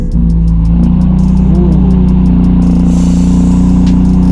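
A BMW M4 Liberty Walk engine runs loud and close with a deep rumbling idle and a quick rev that climbs and settles back into a steady growl.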